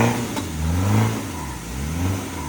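A Land Rover Discovery 1 turbo engine revs up and down in a steady, close rumble that swells and eases over a couple of seconds, with a faint whooshing hiss above the low engine note.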